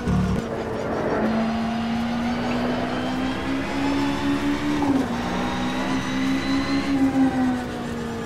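A race car engine in the video game rFactor 2 holds a steady, loud roar with rising and shifting pitch, dipping briefly as it changes gear, with no talking.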